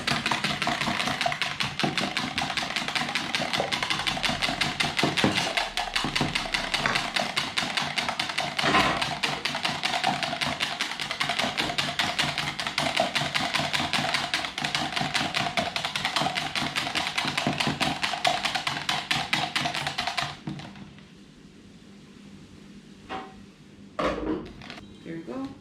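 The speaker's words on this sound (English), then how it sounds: "So I add my eggs. Now I'm gonna whisk it" Eggs are whisked rapidly in a bowl for a Jamaican callaloo breakfast wrap, a fast, even rattle of tapping strokes running for about twenty seconds before stopping, followed by a few faint clinks.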